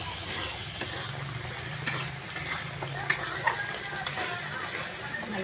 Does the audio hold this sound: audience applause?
no